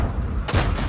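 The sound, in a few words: tank gun firing in a video game (StuG III G)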